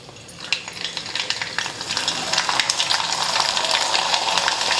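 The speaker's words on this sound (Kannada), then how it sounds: "ಈಗ ಎಣ್ಣೆ ಕಾಯ್ದೈತ್ರಿ. ನಾ ಹಪ್ಪಳ ಹಾಕೋತೀನಿ ನೋಡಿರಿ." Rice papads deep-frying in hot oil give off a steady, close sizzle that swells and thickens as they puff, with fine crackling bubbles throughout and no voices.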